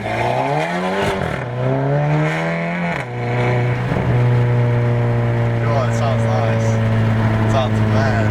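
A loud, straight-piped exhaust on a VW Golf 7 GTI with a 2-liter engine drones and revs with a deep, raspy rumble that rises and falls. People talk over it.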